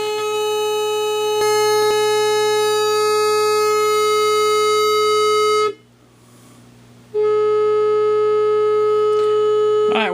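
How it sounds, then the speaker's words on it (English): A square wave test tone played through an LM380N audio amplifier: a loud, steady, buzzy tone that cuts out for about a second and a half midway, then resumes at the same level. "Just a square wave at the moment."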